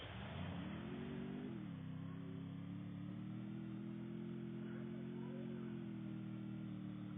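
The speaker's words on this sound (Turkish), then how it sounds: "motora binelim" Motorbike engine in a video game, revving up and holding at a steady mid-pitched drone with slight pitch shifts, close and continuous, no speech.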